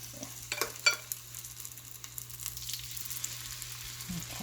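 Kimchi pancake batter hitting a hot fry pan, a soft steady sizzle with a few louder spatters near the start, close by, over a low constant hum.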